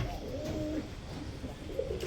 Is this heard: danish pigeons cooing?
yes